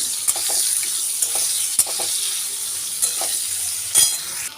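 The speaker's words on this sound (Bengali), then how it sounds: "এর মধ্যে আমি দিয়ে দিচ্ছি আগে থেকে কেটে রাখা বেগুনগুলো" Potatoes and eggplant frying in a pan, a steady bright sizzle with occasional spatula knocks and scrapes against the metal, fairly loud and close, no voices.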